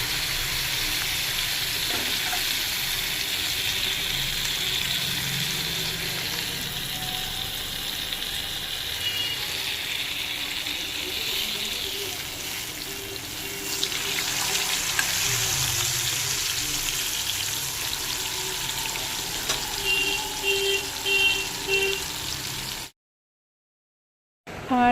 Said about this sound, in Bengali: আর এই কড়াইটাতে না মাছ ভাজা এগুলো না খুব সুন্দর মানে হয়